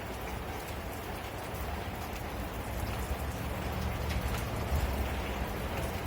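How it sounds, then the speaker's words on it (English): Rain pouring steadily outdoors, a dense continuous hiss of drops on surfaces, near and fairly loud, swelling slightly toward the end with no voices. "It's been raining off and on."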